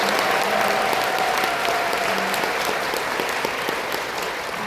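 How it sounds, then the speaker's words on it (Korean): Applause from a business meeting audience, loud, dense and steady clapping filling the room for several seconds without a break. "스스로에게 큰 박수를 한번 치면서 시작했으면 좋겠습니다."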